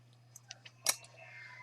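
Scissors snip loose crochet yarn ends on a flower bookmark, giving a few quick light clicks followed by one crisper, louder cut, close and isolated against a faint steady hum.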